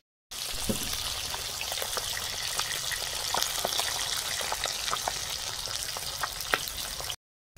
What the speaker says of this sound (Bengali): মাছ এক সাইড ভাজা হয়ে গেছে